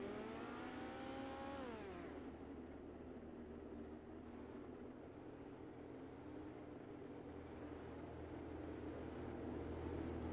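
Small midget race cars at Volusia circle on pace laps, engines droning steadily and loud throughout, with one car's rising rev pitch sweeping down near the start.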